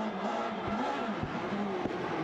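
A rally car at the International Jannerrallye, its engine droning steadily with small throttle and brake changes, a few brief dips and pulses over a continuous, fairly close engine note.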